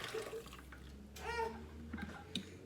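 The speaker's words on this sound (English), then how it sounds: "And then you just pour it in the water." Shell pasta poured into a pot of water for Mexican sopa de conchas, a brief watery splash and trickle over steady kitchen background hum.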